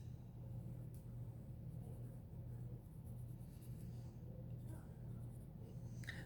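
Handwriting letters with a pen or marker on a surface, a soft scratchy scribbling that runs quietly and steadily over a low constant rumble, with no talk.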